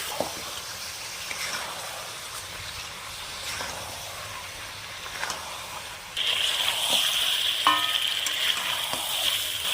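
Chicken meat, home-raised sonali bird, sautés in a pan with a soft steady sizzle, occasional stirring scrapes, and the hiss growing brighter and louder partway through.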